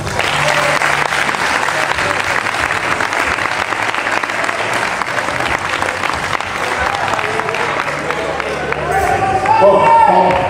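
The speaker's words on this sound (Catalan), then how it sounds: "I que siga per un bon aplaudiment." Audience at a festival fellowship lunch in Alzira giving loud, sustained applause, dense rapid clapping with crowd chatter underneath and voices and a brief musical flourish rising near the end.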